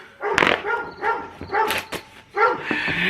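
A neighbor's dog barks loudly several times in a row, close by with a deep bow-wow and a few higher yips, with no other sound in between.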